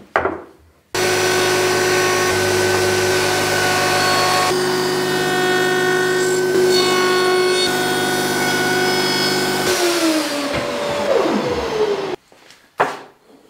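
A router with a bearing-guided bit rounds over a wooden edge, a loud steady motor whine with cutting noise that runs for several seconds, then winds down and stops.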